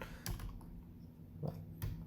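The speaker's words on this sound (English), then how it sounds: "you can literally just hit the left button" A computer keyboard's left arrow key pressed a few times, giving quiet separate clicks over a faint background hum.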